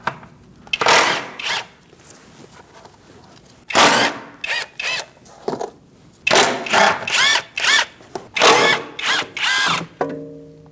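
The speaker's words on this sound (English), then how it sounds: "Using a 10mm socket, we're going to remove those now." A power tool with a 10mm socket removes the front inner fender liner fasteners on a 2008-2014 Mercedes-Benz C300, running in a series of loud, close, short whirring bursts separated by brief pauses.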